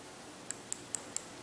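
Four quick, evenly spaced light taps on the glass front of an outdoor wireless security camera, crisp and close over quiet room tone.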